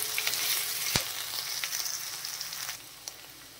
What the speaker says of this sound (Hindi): अब इसमें हम लोग लहसुन अदरक का पेस्ट डाल देंगे 1 चम्मच। और फिर इसको हम लोग मिक्स करके 2 मिनट तक और भूनेंगे